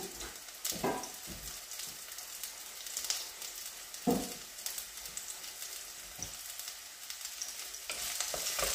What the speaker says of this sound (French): Donc je fais bien revenir mes oignons